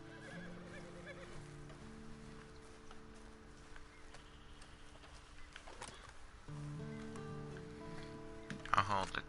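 A horse neighs and whinnies in the Western video game Red Dead Redemption Online, with hooves clip-clopping alongside, set against steady game music and ambient tones, with a louder burst near the end.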